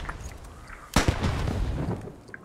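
A cannon fires in the World War I shooter Beyond The Wire, a sharp loud boom near the middle followed by a rumbling tail and scattered distant gunfire, with no talk.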